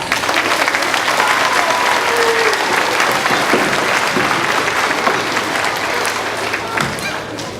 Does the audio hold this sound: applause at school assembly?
yes